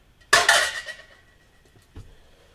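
A silver-plated vintage metal item is tapped once, giving a hollow, dense ringing clink that decays over about half a second, followed by a softer second knock, close and quiet.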